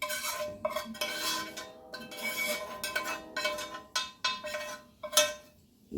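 Vegetables going into a pot for a pantry pasta sauce, with metal utensils clinking and scraping against the pan in irregular bursts, fairly close and alone.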